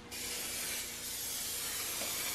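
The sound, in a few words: spray can painting a car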